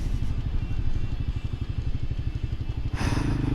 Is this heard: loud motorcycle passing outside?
yes